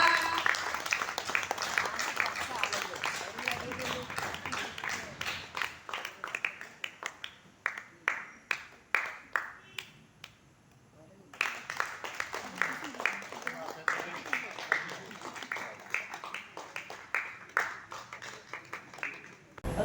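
Sustained clapping from an audience at a school reunion marking the second anniversary of the 1981–82 SSLC batch of GHSS Chathannoor, dense and rhythmic, thinning briefly midway before swelling again, with talk mixed in.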